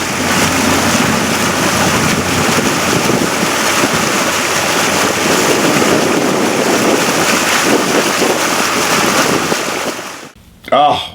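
A boat cruises through mangroves at sunset, its steady broadband rush of hull, water and wind buffeting holding loud and constant for about ten seconds before cutting off abruptly.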